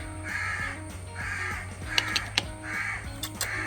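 Crows caw repeatedly outdoors in a steady run of harsh calls, a few sharper and closer, over a low background hum with no talking.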